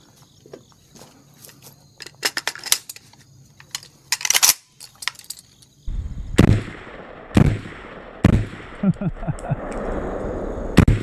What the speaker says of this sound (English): let's shoot an AK.